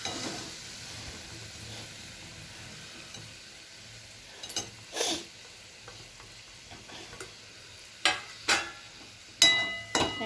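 Boiled potatoes get stirred into cooked spices in a pan for Gujarati-style bataka nu shaak, with a faint sizzle underneath and a few sharp scraping clatters of the spoon against the pan toward the end.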